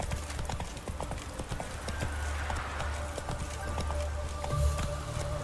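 A horse gallops in The Witcher 3 video game, with brisk, steady clip-clop hoofbeats, a faint whinny and the game's background ambience underneath, heard up close and continuous throughout.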